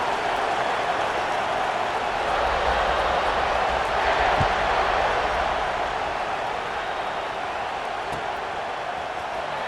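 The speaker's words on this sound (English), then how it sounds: "this crowd now ready to get behind them" A stadium crowd in the College Football 26 video game holds a constant loud roar of cheering, a dense, even wash of noise that swells slightly midway and never breaks.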